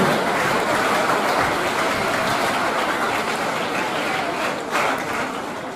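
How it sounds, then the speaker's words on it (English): Steady, dense applause from an audience at a Sunbeam school event, a continuous wash of clapping that holds for several seconds and eases slightly near the end. "A huge round of applause for this truly inspirational person."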